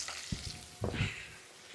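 Snake gourd and eggplant fry in a pan while being stirred: a faint sizzle runs under a few soft scrapes and clacks of the spoon against the pan.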